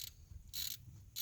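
Ratchet with a short extension backing out a 13 mm water pump bolt on a 4.9-liter six-cylinder Ford F150 engine, heard as three bright bursts of rapid clicking separated by short pauses, close and fairly quiet.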